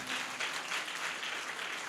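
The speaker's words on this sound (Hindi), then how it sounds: "तो जोरदार तालियां बजनी चाहिए" Audience applause at a kavi sammelan poetry gathering in Bhopal, a steady wash of clapping from a large crowd, fairly faint and distant throughout the short stretch.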